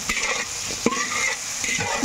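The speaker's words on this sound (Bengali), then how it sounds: "4টে আন্ডা ভেঙে দিয়ে ভেজে নেব" Four eggs frying in a pan together with fried chowmein pieces, a steady sizzle broken by a few short scraping stirs of a spatula against the metal, close and alone.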